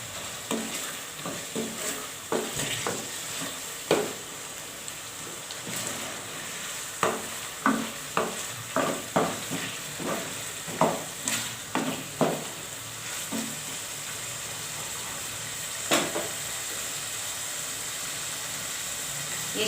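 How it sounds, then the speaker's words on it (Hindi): Pink turnip and meat stir-fried in a pot over high heat, with a soft steady sizzle and bursts of spoon clatter and scraping against the pot. "थोड़ा सा आँच को तेज कर दे, अब इसकी भुनाई करें।"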